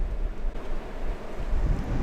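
Wind buffets the microphone during a drone flight, a steady low rumble and rush that stays moderately loud for two seconds with no voices.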